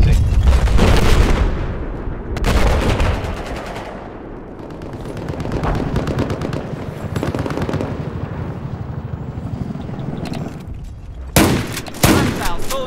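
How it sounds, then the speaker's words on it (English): Bursts of rapid gunfire and booming explosions from a Battlefield 4 battle on the Siege of Shanghai map, loud and chaotic with brief pauses between volleys. "I hear explosions"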